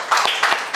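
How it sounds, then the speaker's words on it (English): A classroom of students claps for themselves, a short burst of several quick claps in uneven rhythm, close and fairly loud. "please once again clap for yourself"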